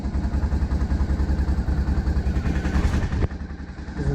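A Honda Africa Twin motorcycle engine runs steadily at a low, pulsing idle, close and fairly loud, with a slight change in tone near the end and no one speaking.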